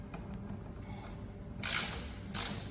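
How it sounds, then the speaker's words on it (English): Torx 25 bolts come loose on the rear of a Jeep JL Wrangler, giving two short, close ratcheting bursts over a quiet background. "now we'll actually start removing all these Torx 25 bolts over here to reveal the wiring behind"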